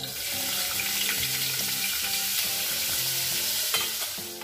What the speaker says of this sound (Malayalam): ഇനി നമുക്ക് ഇതിലോട്ട് അരിഞ്ഞു വെച്ചിട്ടുള്ള ചേന ഇട്ട് കൊടുക്കാം